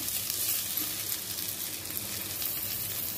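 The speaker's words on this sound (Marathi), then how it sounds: "कांदा व्यवस्थित भाजत आल्यावर आपण थोडी लसूण, थोडं आलं हे टाकून थोडं परतून घेऊया" Onion, garlic and ginger fry in a pan for a squid masala, giving a steady, close, dense sizzle that runs the whole time with no talking.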